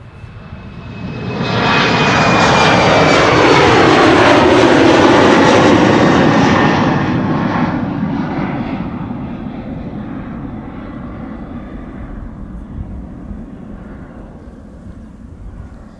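A KLM jet airliner departing Amsterdam Schiphol for Bologna, its engine roar swelling quickly to a loud peak overhead, then fading slowly into a long, steady, distant rumble.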